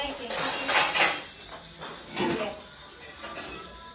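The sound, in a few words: clean dishes and cutlery being put away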